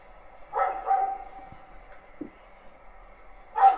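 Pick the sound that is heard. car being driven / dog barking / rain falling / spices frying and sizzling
dog barking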